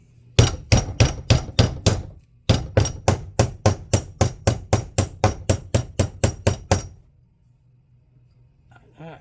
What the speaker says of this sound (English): Get a rubber hammer that's older than Hugh Hefner here.